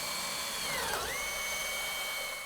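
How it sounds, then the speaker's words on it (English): A power drill bores clearance holes through the mounting flanges of a vent-free garage heater, giving a steady, close, high whine that dips briefly in pitch under load before recovering. "Once in position, I clamp the mounting flanges and bore clearance holes."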